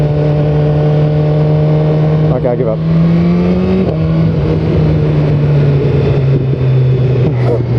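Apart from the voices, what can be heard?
BMW S1000R motorcycle engine revving with stock exhaust pops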